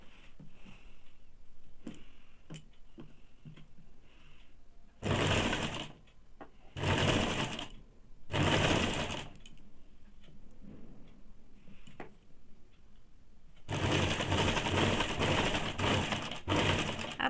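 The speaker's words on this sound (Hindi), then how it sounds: "अब मैं इसको डबल सिलाई डाल दूंगी और दूसरा चोली भी इसी प्रकार से सिल लेंगे" Sewing machine stitching a saree matching blouse, running in several loud bursts of rapid stitching separated by quiet pauses with small clicks and handling sounds, ending in a longer continuous run.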